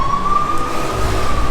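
A fire engine siren near a suburban street in New Taipei, Taiwan, holding a steady wailing tone over traffic rumble for a brief moment with no talking.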